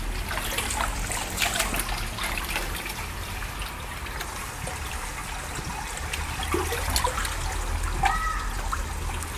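Water runs steadily through a filter chamber during backwash, carrying dirt down and out the drain, a continuous trickling and splashing wash that stays fairly even and close throughout.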